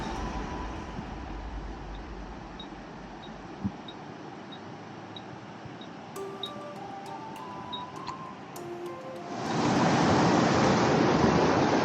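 The glacier-fed Shyok River in Ladakh rushes in a steady broadband wash, growing suddenly louder and closer near the end, with faint beeps and tones over the flow.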